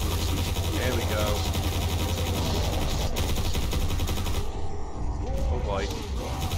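Rapid gunfire from Mass Effect NPC soldiers in a Garry's Mod battle against the Hulk, a dense, continuous barrage of shots with scattered louder bursts, heard under someone talking over the game.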